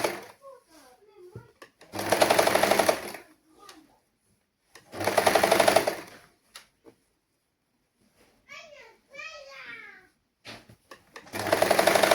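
A sewing machine stitches a saree blouse sleeve, running in three loud, steady bursts of about a second each, separated by pauses in which someone speaks and other small sounds occur.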